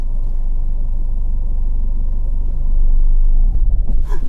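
A Ford Fiesta 1.5 TDCi diesel with manual clutch pulls away, its steady low engine rumble swelling briefly before the engine stalls and cuts off near the end, leaving a few uneven knocks.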